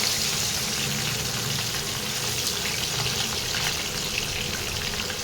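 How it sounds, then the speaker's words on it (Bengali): Parshe fish fillets coated in turmeric and salt sizzle steadily in hot oil, a continuous bright crackle and hiss close to the pan with no talking over it. "এইভাবে প্রতিটা মাছকে ভেজে নিতে হবে।"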